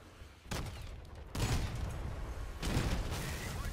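Cannon fire from armored vehicles in the Crossout combat game: three heavy, booming blasts in quick succession, each with a long rumbling tail, loud and close with no talking.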